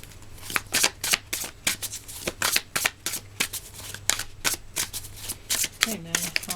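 Sacred Geometry oracle cards being shuffled by hand in a steady run of crisp riffling bursts, close and fairly loud, with a brief voice heard near the end.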